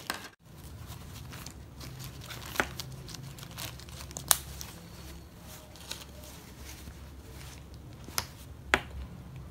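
A plastic sealing clip is pressed onto an open polythene bag, giving sharp, close snaps and clicks amid steady plastic crinkling and rustling, with a few louder distinct snaps near the end.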